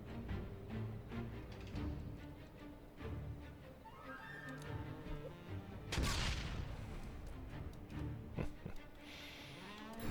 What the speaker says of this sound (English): Ooh, if I can get a grenade. I can get a grenade over there.